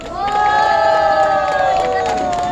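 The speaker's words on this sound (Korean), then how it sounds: "우리 옆에 있는 서로에게 박수 한번 우리 부탁드리겠습니다." Crowd at an outdoor candlelight protest rally in Gwangju, with loud cheering and shouting voices rising together in a sustained roar, tonal shouts sliding over a wall of noise, close and continuous.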